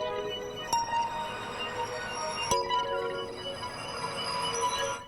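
Granulated synth sparkle from the Pigments plugin: a dense, glassy shimmer of bright clinking tones with a couple of sharp clicks, sustained and steady for several seconds with no voice.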